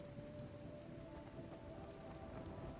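Steady rain patters in a video game, a faint, even hiss of drops that goes on without a break, with a low hum running underneath.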